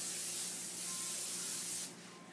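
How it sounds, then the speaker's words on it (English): Cooking spray sprayed onto a pan before chicken goes in, a continuous close hiss lasting almost two seconds that then cuts off into quiet room noise. "You spray the pan with the cooking spray so that the chicken don't stick to the bottom."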